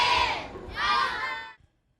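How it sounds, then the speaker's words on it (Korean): A crowd of children at a science festival shouts excitedly in two loud, rising bursts as a water rocket launches, then the cheering cuts off abruptly. "아이들은 멀리 날아가는 로켓을 보며 함성을 지르고 흥분을 감추지 못하는 모습입니다"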